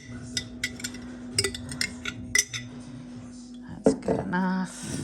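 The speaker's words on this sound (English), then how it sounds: "we're gonna scrape out what's inside the jar" A spoon scrapes cooked elderberries out of a glass jar, giving scattered clinks and scraping taps against the glass over a steady low hum, with a louder clatter near the end.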